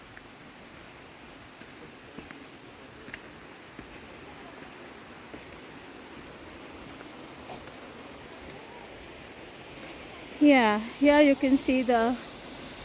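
Distant waterfall in the Khasi hills of Meghalaya at Wah Kaba near Cherrapunjee, water dropping down a cliff into a deep valley, heard as a faint steady wash of noise, with someone briefly speaking near the end.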